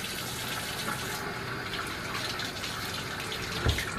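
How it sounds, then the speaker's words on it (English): A tap runs in a steady, close gush while hands are washed under it, the flow holding even throughout with a brief bump near the end and no talking. "Wash my hands."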